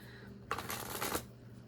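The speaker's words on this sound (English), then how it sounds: "So as I'm shuffling the cards" A quick riffle of tarot cards being shuffled, one close, crisp burst lasting under a second in a quiet room, with no voices over it.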